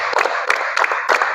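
A class claps together in quick pairs, four bursts in a little over a second, fairly loud and close over a constant room hiss, with no voices.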